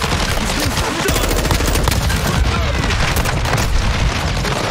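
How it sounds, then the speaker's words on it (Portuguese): Call of Duty firefight with a grenade blast, dense and loud continuous machine-gun fire and booms filling the whole stretch without letup. "Jogando granada."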